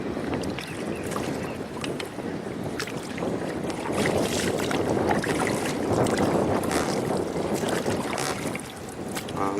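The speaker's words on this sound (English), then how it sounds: "And I'm gonna be rowing." Small boat being rowed on open water, with soft continuous splashing and sloshing in an even rhythm, brushed by wind noise on the microphone and nobody speaking.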